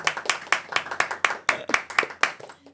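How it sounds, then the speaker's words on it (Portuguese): An audience claps in a brief, quick burst of applause, with sharp, closely spaced hand claps heard fairly near. "Salva de palmas"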